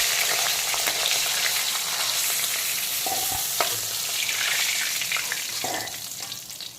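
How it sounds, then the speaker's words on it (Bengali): Panch phoron five-spice seeds crackle and spit in hot oil, a loud, steady close-up sizzle with brief pops and stirring clinks; no one speaks. "দিয়ে দিলাম 5 ফোড়ন, কারণ এই টকটাতে কিন্তু 5 ফোড়নই দিতে হবে।"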